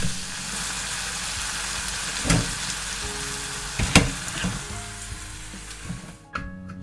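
Steady sizzling of meat stir-frying over medium heat in a hot pan, with a few louder clatters of stirring, then the sizzle cuts off near the end.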